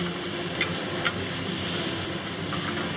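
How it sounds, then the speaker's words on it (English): Onions with garlic and ginger sizzle steadily in a pan, with a few sharp clacks from tossing and stirring cutting through the constant frying hiss. "Toss it for about 30 seconds until your onions start to soften up a little bit"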